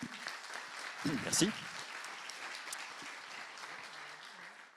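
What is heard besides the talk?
audience applause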